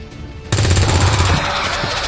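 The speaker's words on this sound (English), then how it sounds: "Burning through ammo fast." Rapid automatic gunfire in XCOM 2, War of the Chosen, erupting after a quiet half second into a dense, loud, continuous burst of shots that carries on to the end.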